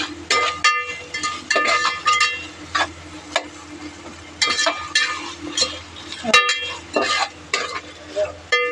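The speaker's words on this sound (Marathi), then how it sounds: "कांदा पण लालसर भाजून घ्यायचा" Onions with bay leaves, curry leaves and whole spices frying for home-made pulao, a loud sizzle broken by repeated scraping and clinking stirs of a spoon against the pan, close and busy without speech.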